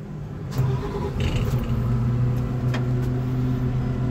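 The diesel engine of a Tadano 50-ton mobile crane starts and settles into a steady, low idle rumble that is close and continuous, with no talk over it.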